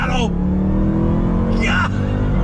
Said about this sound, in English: the exhaust note with that massive X pipe that's underneath the center of this vehicle